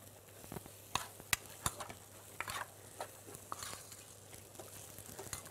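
Rice and other ingredients are stirred in a frying pan, giving soft scraping and clicking with a few sharper taps over a faint sizzle. The sound is quiet and close.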